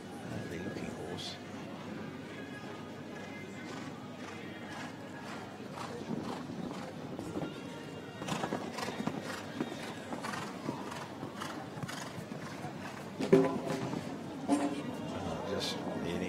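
A horse moves around a show jumping arena at a Nations Cup competition in Sopot, Poland, its hooves giving soft, intermittent clip-clops under steady commentary, with faint crowd ambience and a couple of louder thumps near the end.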